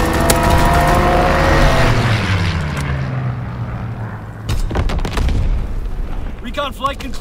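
A Call of Duty strafing run from an air support killstreak, with heavy booming blasts and rumbling gunfire up front that fade into a lower drone, then several sharp cracks near the end.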